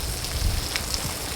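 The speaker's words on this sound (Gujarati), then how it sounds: "મસ્ત વરસાદ આવ્યો મસ્ત વરસાદ" Heavy rain falls in the Gir area of Gujarat, a steady, dense wash of broadband hiss with a few louder drop impacts, close and continuous with no voices.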